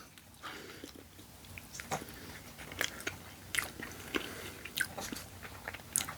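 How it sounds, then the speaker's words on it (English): Close, wet chewing and biting of Wingstop voodoo fries topped with cheese and Cajun seasoning, steady mastication with repeated sharper crunchy bites throughout, alone without talk. "Alright, let's try the fries."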